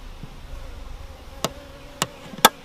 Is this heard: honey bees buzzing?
yes